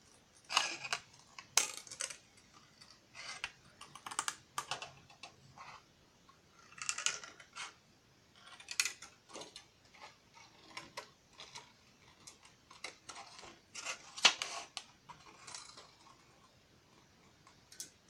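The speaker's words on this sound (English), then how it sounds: "let's cut it out and shrink it down and see what we get" Scissors snip through a sheet of shrink plastic while cutting out a bird-shaped button, giving irregular bursts of close, crisp clipping and rustling with short pauses between cuts.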